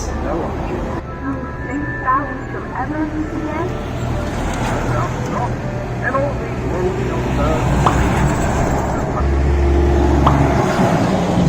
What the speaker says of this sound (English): It's hard to hear much of anything with all the traffic driving by.